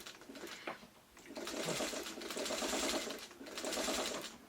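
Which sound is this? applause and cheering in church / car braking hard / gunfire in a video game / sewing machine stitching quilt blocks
sewing machine stitching quilt blocks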